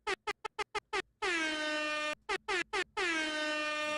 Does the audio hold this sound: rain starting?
no